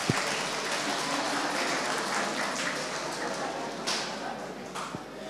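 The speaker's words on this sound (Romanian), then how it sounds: "Aplauze!" An audience at a village ceremony for 50-year wedding anniversaries breaks into steady applause, dense clapping that carries on for several seconds.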